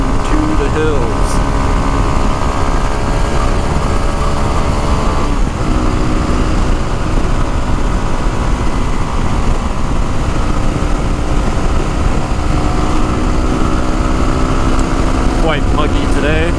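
A Yamaha WR250R motorcycle engine drones steadily and loudly throughout a ride through orchards and hills in the Santa Cruz Mountains, with a constant hum that barely changes over the whole stretch.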